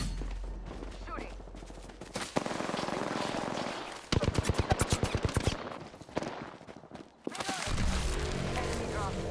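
Bursts of rapid automatic gunfire in the shooter game Apex Legends, including a loud, evenly spaced volley of shots in the middle, with other shots and game noise around it.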